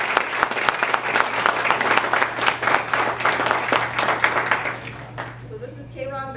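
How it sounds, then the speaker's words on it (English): An audience at a youth employment program awards banquet applauds a guest speaker, a dense, lively burst of crowd clapping with a steady hum beneath. It fades out near the end as a voice begins speaking. "So let's all give a round of applause to Mr. K-Ron for taking the time."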